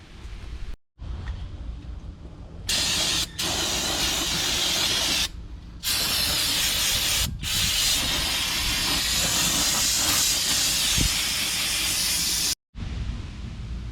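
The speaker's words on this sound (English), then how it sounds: "we'll come back and douse it with some brake cleaner" Brake cleaner sprays in loud, hissing bursts onto the brake hub of a 2019 Ford F-350 dually pickup, several long blasts split by short pauses, close up with no talk.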